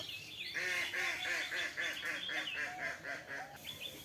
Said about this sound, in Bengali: পাশেই পুকুরে হাঁস ছেড়ে দিয়েছি